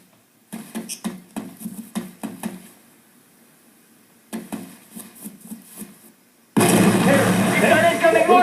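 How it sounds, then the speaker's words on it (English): Incoming mortar fire in the military video game Arma III: clusters of sharp distant bangs and pops come in irregular bursts, then a loud, sustained roaring blast takes over at the end. "got incoming mortar fire"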